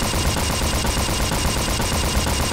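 Continuous rapid gunfire from the first-person shooter Unreal Gold during a co-op match, a dense unbroken barrage of shots filling the whole stretch with no voices over it.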